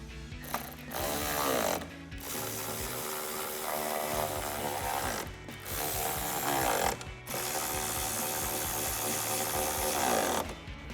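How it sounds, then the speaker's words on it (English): A ratchet with a 10mm socket and extension tightens nuts and bolts while installing a towing mirror on a RAM 1500 pickup, with repeated clicking strokes under loud background music. "To tighten the two nuts and two bolts down, we're going to be using a 10mm socket, socket extension, and a ratchet."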